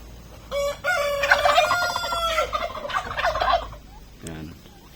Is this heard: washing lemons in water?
no